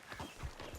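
Hooves of a tired horse in Red Dead Redemption 2 clop in a quick, steady run of close, muffled steps.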